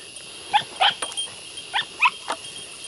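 A young hound pup offered for sale gives a series of short, sharp yips and barks in uneven bursts, close by and fairly loud, with a hint of growl between them and no one speaking.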